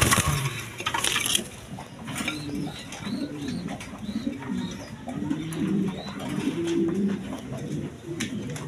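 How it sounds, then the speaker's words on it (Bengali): A pair of red Danish pigeons with three bars coos in repeated rolling phrases, close and fairly loud, after a brief rustling knock at the start; no one speaks. "এখানে এক পেয়ার 3 পট্টি লাল গিয়ার ডেনিশ কবুতর আছে রেড কালারের মধ্যে"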